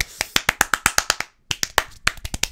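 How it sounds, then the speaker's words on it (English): Rapid, sharp hand claps ring out close and loud in quick succession, about a dozen in a burst, a brief pause, then another fast run of claps. "trying to clap as fast as I can"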